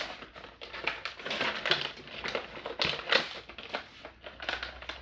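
Ninja Turtles toy packaging is torn open by hand, a close run of crinkling, crunching plastic and cardboard with irregular rips and rustles throughout.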